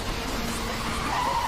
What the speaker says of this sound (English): This is one hell of a drift.